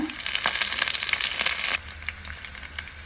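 Onions, green chillies, mint and curry leaves fry in a pan with a loud, dense, close sizzle that eases noticeably partway through and continues more quietly.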